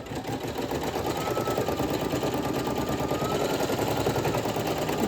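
An embroidery machine stitches on a baby onesie, running with a fast, even mechanical whir and rapid needle chatter that stays steady and close from start to finish, with no talking.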